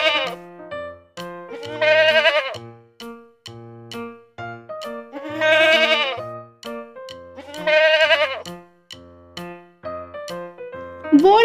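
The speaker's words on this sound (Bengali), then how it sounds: "ছ ছয়ে ছাগল ছানা লাফিয়ে চলে।" Young goat kid bleating in a series of loud, wavering cries, three long calls with short bleats between, close and clear with no talk over it.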